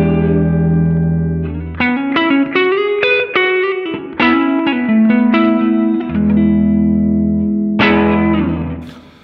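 Electric guitar plays a clean tone with a slight edge of breakup: ringing chords and single-note runs with reverb, close and loud, with no voices.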